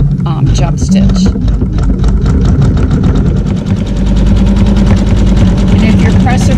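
An embroidery machine stitches a Fleur de Lis quilt block, producing a loud, steady, rapid mechanical whir with a regular stitching rhythm throughout while a voice talks over it.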